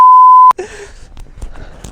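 A steady, loud censor beep tone lasts about half a second, then cuts to faint, muffled outdoor sounds and breathing.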